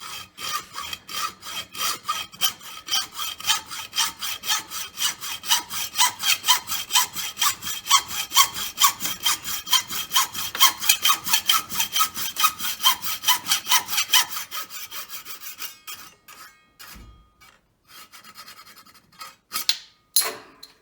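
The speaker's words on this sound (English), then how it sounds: "And just straight old hacksaw." A plain hand hacksaw cuts through metal during a Clausing/Harrison lathe DRO upgrade, fast steady back-and-forth rasping strokes up close for about fifteen seconds, then slowing into a few scattered final strokes and clatter.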